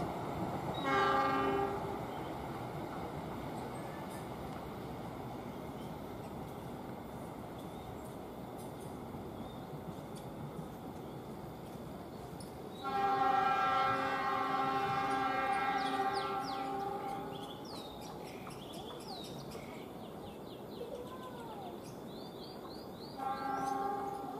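An Atlas landslide-clearing train in Indonesia rumbles past steadily while a horn sounds in several long, loud blasts, one early, a longer one midway, and another at the end.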